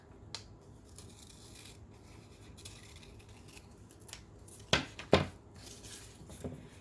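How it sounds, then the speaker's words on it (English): Scissors cutting paper along a fold for a kinetic elephant craft: quiet snipping, then two sharp close snips near the end. "again I'm cutting along that fold"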